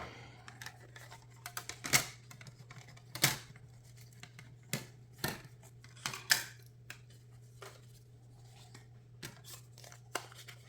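A die cutting machine runs cardstock through for card making, giving a quiet steady low hum with scattered sharp clicks and crunches spread across the clip.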